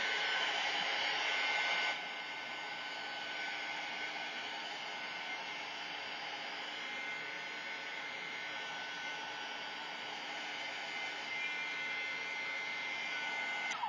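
An electric craft heat tool blows steadily and close, a continuous loud airy whoosh that drops slightly after the first couple of seconds and then holds evenly to the end, with no voices.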